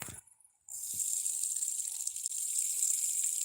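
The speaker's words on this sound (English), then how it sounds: "You are going to hear the sound of the pee." A person urinating outdoors into a bush, a steady hissing trickle of liquid that starts abruptly and continues evenly, close and fairly quiet, with no talk.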